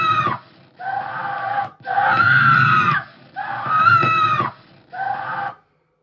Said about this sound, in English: Stop screaming. You'll frighten the twins.